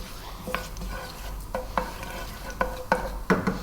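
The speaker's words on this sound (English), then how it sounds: "We're gonna start off by dropping in a couple of teaspoons of cumin seeds into this." Cumin seeds dropped into hot fat over above-medium heat for a potato okra curry, crackling in a series of sharp sizzling bursts and pops over a steady low background, with no talking.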